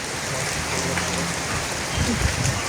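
Steady rain falls on a road trip in the mountains between La Union and Baguio along Naguilian Road, a dense broadband hiss throughout with faint talk and a few low knocks near the end.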